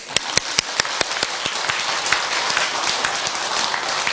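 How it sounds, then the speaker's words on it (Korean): A crowd at a Buddhist temple dharma gathering breaks into applause, a few sharp distinct claps at first swelling into dense, continuous clapping from many people close by. "제가 정말 감사해 박수를 치게요."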